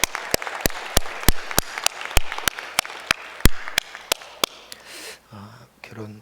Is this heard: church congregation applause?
yes